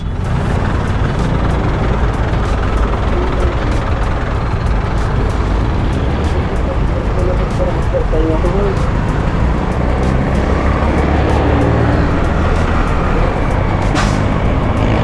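Honda Navi scooter weaving through city traffic, a loud, steady engine drone mixed with surrounding road noise and wind throughout, with a voice talking over it.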